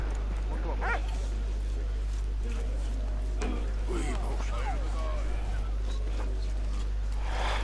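Electronic-sounding dog barks and yips repeat over a steady low hum, with people talking throughout.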